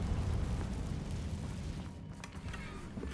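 A deep rumbling boom from the Confringo blasting spell in Hogwarts Legacy, a sustained low roar that fades slightly over three seconds.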